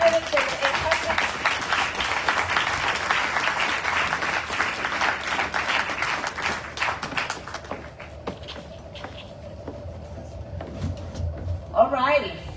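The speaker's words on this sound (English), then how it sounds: "Can we give a round of applause for all the candidates and the incumbents?" Audience at a Village of Hempstead mayoral and trustee candidate forum applauds the candidates and incumbents, a sustained round of clapping that fades out, followed by someone talking and a few knocks near the end.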